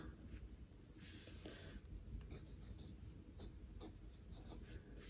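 A pen scratches across a board in short, uneven strokes, quiet and close, with steady low background noise and no talking.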